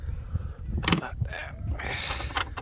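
A bolt is worked loose on a car during a neon underglow install, giving a few close metallic creaks and clanks with short scraping bursts against a steady background.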